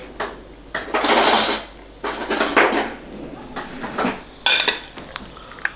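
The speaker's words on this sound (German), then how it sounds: "Jetzt werden wir es einmal schön durchmischen." An oily Japanese noodle dish is tossed and mixed in a pan, with repeated loud clanks and scrapes of a utensil against metal in irregular bursts over a faint sizzle, with no talk.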